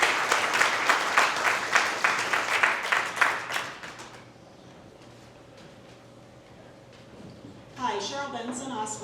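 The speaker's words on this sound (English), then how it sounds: "he deserves a round of applause" Audience at a community Eggs and Issues forum gives a round of sustained applause that fades out after about four seconds, leaving quiet room tone before a voice starts speaking.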